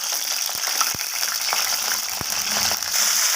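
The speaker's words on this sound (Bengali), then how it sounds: "সবকটি ভেন্ডি আমার তেলের মধ্যে দিয়ে দিয়েছি" Okra pieces frying in hot mustard oil in a wok give a steady, close sizzle throughout, with a few sharp clicks and knocks from stirring.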